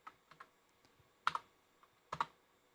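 Keys clack on a computer keyboard in quiet, sparse taps with two sharper clusters of keystrokes, close by and with no talk.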